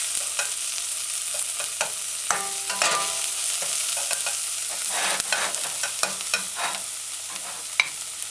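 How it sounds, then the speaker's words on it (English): Mashed garlic sautéing in a pan while being stirred, a close bright sizzle punctuated by frequent scraping and tapping of the utensil against the pan. "add mashed garlic. Stir it in, allow to saute."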